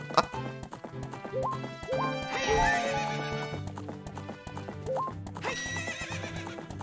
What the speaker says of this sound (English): Fucking miserable horse